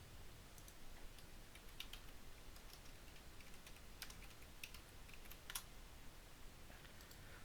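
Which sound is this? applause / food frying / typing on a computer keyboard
typing on a computer keyboard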